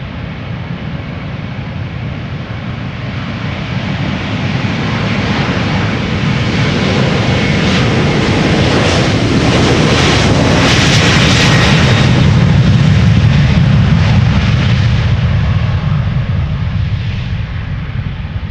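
Delta Airlines Airbus A330-300, nine years old, departing Amsterdam Schiphol Airport, a loud sustained jet engine roar heard close up that builds after a few seconds and holds a heavy rumbling peak before easing slightly.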